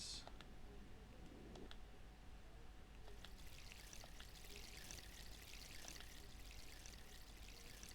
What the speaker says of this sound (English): Among the trees, there's running water.